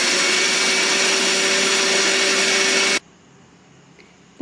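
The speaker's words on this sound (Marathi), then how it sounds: "मिक्सरला याची भरड करून घ्यायची आहे" A kitchen mixer grinder whirs loudly and steadily while coarsely grinding lentils, a high motor whine that cuts off abruptly after three seconds, followed by near quiet before it briefly starts again.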